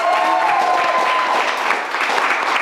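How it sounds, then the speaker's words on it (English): A studio audience at a quiz contest applauds steadily throughout, dense, sustained clapping at close range with a faint tone underneath. "A round of applause for that."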